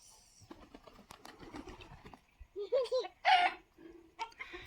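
A rooster lets out a few short, throaty clucks at close range amid faint household background noise.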